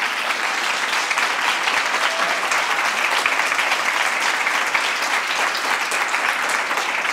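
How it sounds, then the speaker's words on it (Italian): A studio audience at a television talk show breaks into strong, sustained applause for an arriving guest, a dense, even burst of clapping heard alone. "vi chiedo di fare un fortissimo applauso per Maria Giovanna Kerchi."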